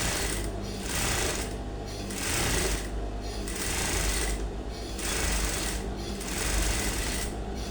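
A sewing machine stitches a smock crop top in repeated bursts, its rapid needle clatter running in several roughly second-long runs separated by brief slowdowns, close and steady.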